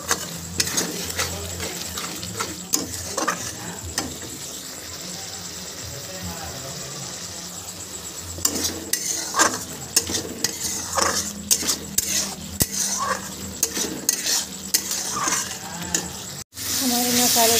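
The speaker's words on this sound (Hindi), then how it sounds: "इसमें हल्के पानी डाल के मसाले को हम फ्राई कर लेते हैं" Spice masala, including Kashmiri chilli, frying with a little water in a pan for egg curry, heard as steady stirring and scraping of a spoon against the pan over a low sizzle, with a voice talking throughout.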